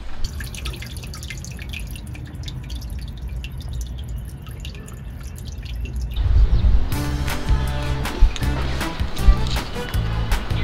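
A small solar-powered fountain in a lily pond splashes and drips steadily, growing louder and busier partway through as the pump picks up, a close, continuous trickle of falling water.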